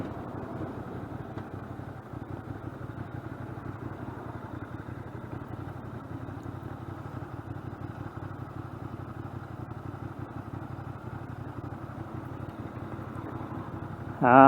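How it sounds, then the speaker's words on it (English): A Ducati Monster 600 V-twin motorcycle engine idles steadily for the full stretch, a low, even rumble that holds close and constant, with a brief louder burst right at the end. "The V-twin engine doesn't spin very fast anyway."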